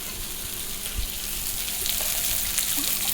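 Water pouring into a cooking pot of fried spices, a steady splashing wash with faint sizzling underneath, close and continuous, with no voices.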